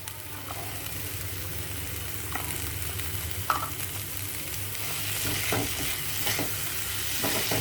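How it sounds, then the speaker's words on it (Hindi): Boiled peas going into spiced sewai in a hot pan, with a steady close sizzle of frying and several scraping stirs and clinks of a spoon against the pan, no voices. "अब हम इसके अंदर डाल देंगे मटर"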